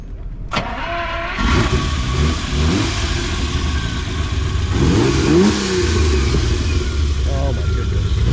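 1967 Ferrari 330GTS V12 started at a Supercar Sunday car show: a starter crank, the engine catching, then several rising revs over a rumbling idle, close and loud, with people talking over it.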